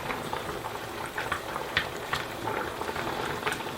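Water bubbling at a rolling boil in a pot before pasta goes in, a steady close burble of popping bubbles with no talk.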